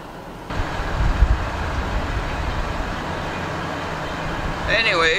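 A short train moving past, heard as a steady broad rumble and rolling noise throughout, with a brief whistling or squealing tone near the end.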